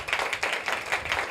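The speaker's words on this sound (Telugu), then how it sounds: "బిగ్గరగా చప్పట్లు కూడా" Loud clapping by a congregation at a Sunday worship service, rhythmic beats in regular pulses roughly every fifth of a second, close and prominent with no talk over it.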